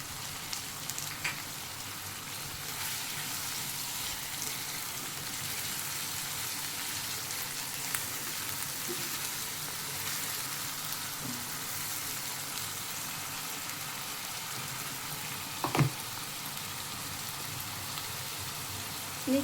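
Ginger garlic paste and tomato frying in a pan, a steady soft sizzle that runs throughout at low level, with a couple of faint clinks near the end.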